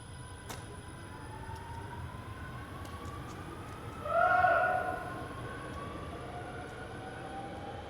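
A Montreal REM metro train pulls out of the station with a faint, steady rumble and rising electric motor whine, swelling briefly midway through, over a constant background hum.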